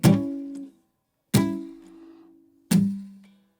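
Three muted strums on a guitar, each a sharp, close attack followed by a brief ring that fades out, with short pauses between them and no other sound.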